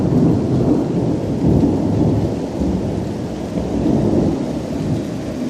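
Thunderstorm during a power outage: a continuous deep rumble of thunder rolls beneath steady heavy rain, loud and close throughout, with no voices.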